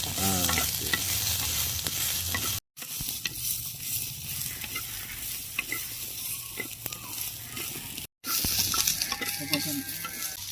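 Curry leaves and spices sautéing in a pan for a homemade curry, a steady close sizzle with stirring scrapes, broken by two brief silent cuts, with no talking.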